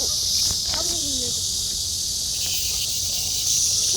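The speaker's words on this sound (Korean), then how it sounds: "저것은 말매미" A Korean blackish cicada (Cryptotympana atrata) drones steadily and loudly in a continuous high buzz, joined by scattered bird chirps and faint rustling.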